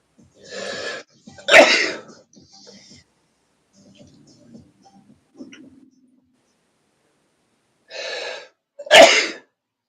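Two sharp sneezes, one right after the other near the start and another pair at the end, with quiet murmuring in between.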